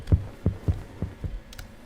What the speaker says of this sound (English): but that was my heart beating.